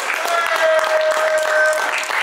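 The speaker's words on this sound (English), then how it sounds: "Everybody clap it up." A small group claps on a music video shoot set, brief scattered applause with a sustained tonal hum running underneath and some background voices.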